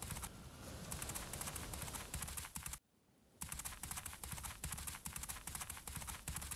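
Hooves clip-clop rapidly and evenly as a horse runs in the horse-riding video game Abenteuer auf dem Reiterhof 2, a dense rhythmic patter that stops briefly and then resumes with no talk over it.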